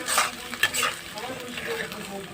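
Ghetkol leaf paste fries in a pan while being stirred, a brief close sizzle with soft scraping strokes and a couple of light utensil knocks.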